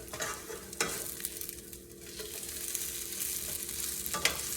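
A hash brown frying in a pan, a quiet, steady sizzle with a few sharp spatula clicks and scrapes near the start and end.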